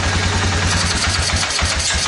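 A Suzuki ATV engine with a major vacuum leak idles roughly at close range, a steady low pulsing throb with uneven beats that sounds ready to stall, no talking.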